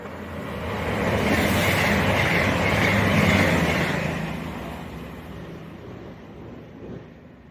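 A train passes straight through a station on the West Coast Main Line without stopping, a broad rushing roar that swells, peaks midway and fades, with faint wheel rattle and no talk.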